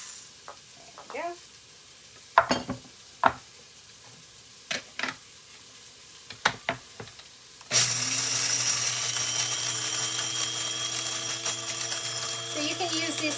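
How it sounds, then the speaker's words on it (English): An electric grinder used for spices starts up after several scattered clicks and knocks, then runs with a steady, loud high-pitched whirring motor drone for the remaining several seconds. "You can use these things to grind your own spices, which is what I use it for."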